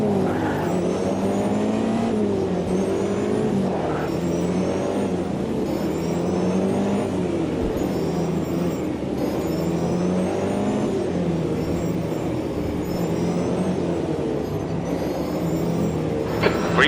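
An LMDh prototype race car in Automobilista 2 on the Daytona Road Course roars continuously, its engine note repeatedly climbing and dropping through gear changes, loud and close throughout.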